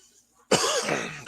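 One sharp, loud cough bursts out close up after smoking marijuana, abrupt and raspy, following a brief near-silence.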